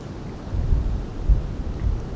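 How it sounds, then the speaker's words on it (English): A strong gust of wind, blowing around 30 to 40 miles an hour outdoors at a bow shooting range, rumbles into the microphone as low buffeting rushes that swell and fade. "Wait for this gust of wind to go away."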